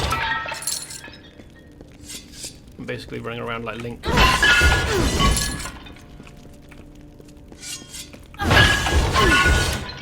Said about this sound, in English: Smashing every piece of pottery I can find